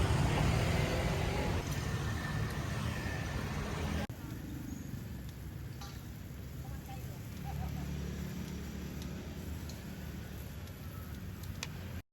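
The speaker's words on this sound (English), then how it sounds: "I continue driving through the streets of Saigon" A car driving through the city streets of Saigon, heard from inside as a steady low engine and road rumble with ambient traffic noise, a slight drop in level partway, and no clear talk.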